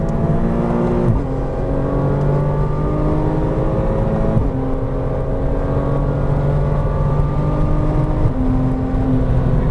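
A Porsche Cayman R laps a race track, its engine note climbing steadily through the gears with a few sharp shift drops, loud and continuous from inside the car.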